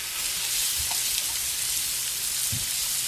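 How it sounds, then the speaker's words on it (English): Diced onion sizzles in about two tablespoons of sesame oil in a pan, a steady, close, bright frying hiss with a couple of soft low knocks, no talking. "I'm going to put some onion in there."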